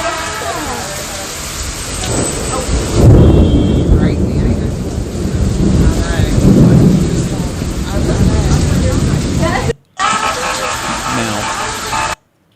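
Heavy rain pours during a severe storm in news footage from Highway 39, a dense steady roar that swells in bursts, with a brief dropout near the end.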